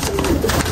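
Pigeons coo softly in their new home, a short low murmuring call under steady background noise.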